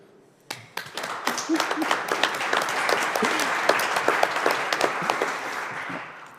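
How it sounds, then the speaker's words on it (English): Room applause for the three winning drivers at a DTM race press conference at the Lausitzring in 2023 starts after a brief hush and builds into steady, dense clapping from a modest crowd, with faint voices underneath. "this is worth a big round of applause after this great race today here"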